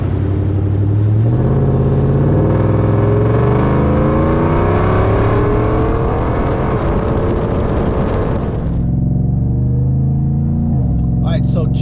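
A supercharged 700 hp Roush Nitemare Ford F-150 pickup engine roars and revs hard, its deep drone climbing in pitch as it accelerates, then dropping off sharply near the end.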